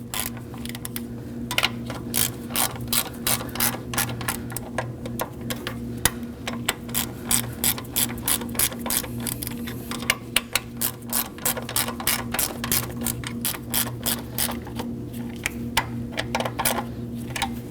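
A ratchet clicks steadily while snugging the high pressure fuel pump bolts on a 2011–2016 Kia Optima, fast crisp ticks in bursts over a constant low engine-bay hum, close up and without speech.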